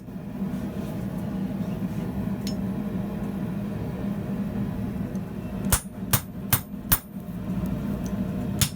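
Handled hot cutter struck with a hammer through a 7/8 inch mild steel bar, five sharp ringing blows in quick succession near the end, preceded by a low steady background hum.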